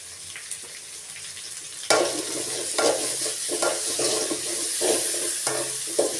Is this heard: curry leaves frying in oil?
yes